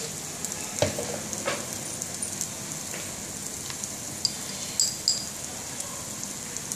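Onion masala paste fries in oil in a pan, giving a steady, close sizzle with a few sharp clicks and spatters scattered throughout.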